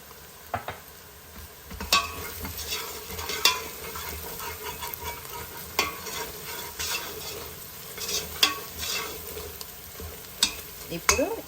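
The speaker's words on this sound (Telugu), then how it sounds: "మన అల్లం వెల్లుల్లిపాయ పేస్ట్ మంచిగా వేగిపోతుంది కదా" Ginger garlic paste frying in oil in a pan for Hyderabadi kichidi, a steady close sizzle broken by frequent scrapes and stirring clinks of a spoon against the pan.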